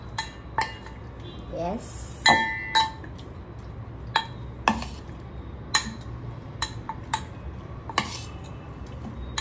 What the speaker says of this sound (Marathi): आता हे मी पूर्ण मिक्स करून घेते